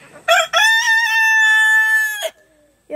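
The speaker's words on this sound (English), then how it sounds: "She's just a little nervous around the other chicken." A pet hen crows and clucks up close, starting with two short clucks, then a long drawn-out cry and a trailing cluck, loud and clear with no one talking.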